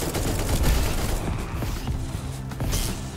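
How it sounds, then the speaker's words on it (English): Missiles firing in the shooter game Echo Point Nova, a loud, continuous barrage of rapid blasts and booms that stays dense and close throughout, with a few sharper bursts along the way. "Oh my gosh, those are missiles."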